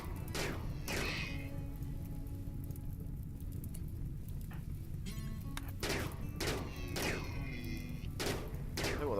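Gunfire in the colony game RimWorld comes as several sharp, loud bursts and quick volleys scattered irregularly across the stretch, over a low, steady background hum.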